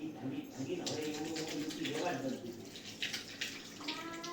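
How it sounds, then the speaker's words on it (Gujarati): Hands washed under a running tap while dishes are being prepared, a steady close splash of water with a voice talking over it. "ડીશ લેવાની પેલા હાથ ધોઈ લઈએ"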